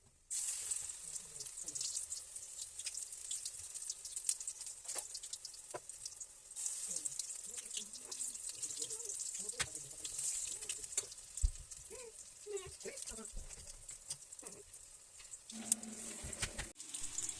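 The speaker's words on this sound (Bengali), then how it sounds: "এখন জাস্ট বড়াগুলো ভেজে নেবো, বড় বড় করেই ভাজবো।" Whole flower fritters (bora) frying in a pan of oil, a steady close sizzle with bubbling crackle throughout, broken by occasional clinks and stirring knocks, with no talking.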